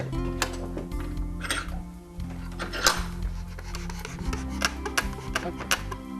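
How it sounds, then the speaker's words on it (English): A wooden tenon is worked into a through mortise on a chair, giving stiff rubbing and rasping wood-on-wood friction broken by sharp knocks and taps, close and fairly quiet, with no talking. "the tenon should fit inside the mortise"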